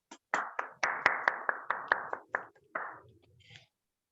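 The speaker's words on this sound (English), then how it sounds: "Can we please keep the applause going" Applause at a Toastmasters club meeting, heard as a short run of about a dozen separate, fairly sharp hand claps from a small group that quickly thins and fades out, with quiet surroundings.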